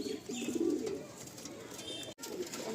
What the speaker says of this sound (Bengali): এবারে গিরিবাজ পায়রা বেশ অনেক আছে এবারে